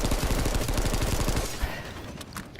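A fast-firing carbine in a video game rattles off a dense, continuous stream of close shots that cuts out after about a second and a half, leaving fainter scattered pops and ambient noise.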